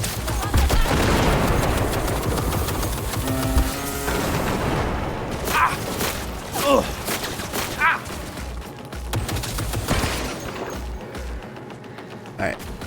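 Close-range gunfire in Cyberpunk 2077, a heavy opening volley of shots and booms followed by scattered loud bangs and impacts, with a voice speaking over part of it.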